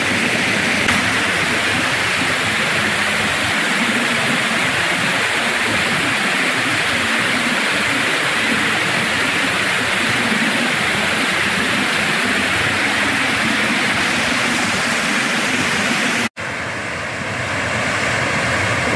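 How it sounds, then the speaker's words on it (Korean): Clear mountain stream water rushes steadily in a dense, even wash of noise with no voices, holding constant before a brief cut and a slightly quieter continuation. "물소리와 함께"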